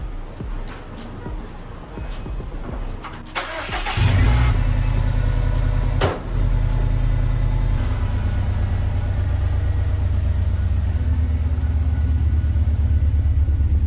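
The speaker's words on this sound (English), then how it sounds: "So let me get the car started." A Subaru car engine starts after an oil change in a garage, cranking briefly before catching into a loud, steady idle rumble that holds close and even, with a short clunk partway through.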